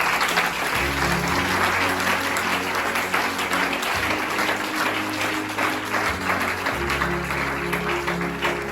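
A church congregation applauds steadily and loudly throughout, with the dense clapping layered over low, sustained music.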